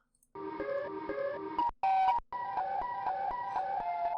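Electronic track for a Siren Head song with the effector, flanger, filter and gross beat switched off: dry, thin melodic synth notes in a repeating pattern, with a brief louder bright burst midway, moderately quiet and without voices.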